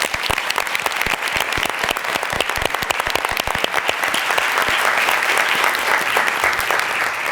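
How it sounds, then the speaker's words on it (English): A guest-speaker audience at a school presentation breaks into sustained, dense applause that fills the room steadily at a loud, even level throughout, with no talking over it. "please join me in a round of applause"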